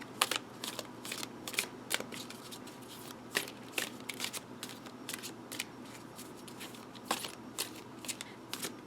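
Large oracle cards are shuffled overhand: a rapid series of crisp, papery riffling flicks, close and steady, repeating throughout with no talking.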